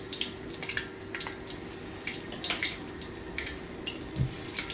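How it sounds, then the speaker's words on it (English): Faint, steady crackling sizzle of meat and chicken frying in hot oil, with scattered pops and spits, continuous and close, no voices. "You can hear that oil sizzling in there."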